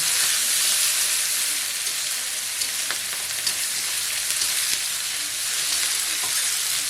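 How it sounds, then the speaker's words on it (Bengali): Chopped onion fries with whole spices (slender green chilli, cardamom, cinnamon) in hot oil, a loud, continuous close sizzle with occasional stirring clicks throughout. "পেঁয়াজ কুচি দেবো মশলাটাকে ভালো করে ভেজে নেব"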